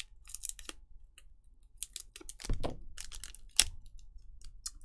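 Small scissors snipping, a few short crisp cuts with metallic clicks, spaced irregularly and close, alone in an otherwise quiet room.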